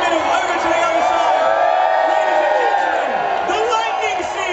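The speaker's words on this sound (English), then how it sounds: "Start the cheering, come on." A large festival crowd roars and whoops in a steady sustained cheer, loud and continuous throughout, with no pauses or individual voices standing out.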